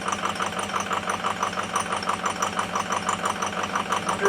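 A Ford F-350 engine idles steadily during a fuel injector test, a close, even mechanical chug with a regular ticking rhythm and no voices.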